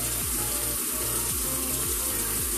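Tap water runs steadily into a bathroom sink during face washing, a dense, constant hiss and splash. Low rhythmic thumps pulse underneath, and no voices are heard.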